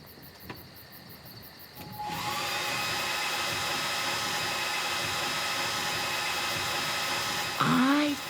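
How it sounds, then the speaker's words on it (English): A hair dryer switches on after a quiet start and runs steadily as a loud, even whoosh with a high whine for several seconds, ending with a brief shift in pitch. "It sounds like a hairdryer."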